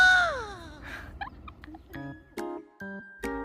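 A hen gives a drawn-out call on a farmstay in Ratchaburi, Thailand, then clucks in several short, clear bursts close by, with quiet pauses between them.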